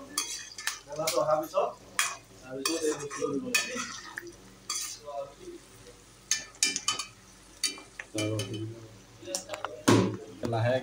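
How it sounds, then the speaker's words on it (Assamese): Onions being stirred as they fry in a pan for an Assamese duck and ash gourd curry, with irregular utensil scrapes and clinks against the pan over a low sizzle, close and fairly loud. "ধুনীয়াকৈ পিঁয়াজখিনি লৰাই থাকিব, লাহেকৈ লৰাই থাকিব।"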